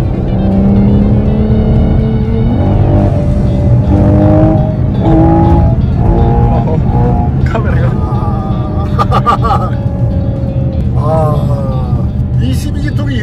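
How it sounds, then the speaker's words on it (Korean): Ferrari Purosangue V12 in sport mode revving hard under acceleration, a loud sustained engine note rising and climbing through the clip, with someone talking over it throughout. "이 12기통이 이렇게 도는데도"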